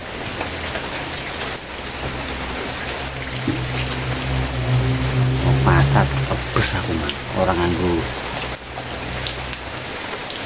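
Steady rain pours down on surfaces in a dense, continuous hiss, with people talking close by over it.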